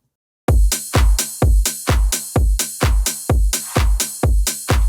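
Punchy kick drum in a mix, squeezed by a glue compressor, thumping alone in a steady even pulse of about ten loud, deep hits with a tight decay between them.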